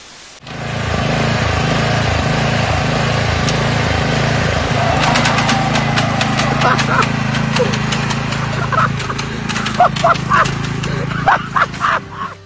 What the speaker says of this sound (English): Mowing grass also requires skill.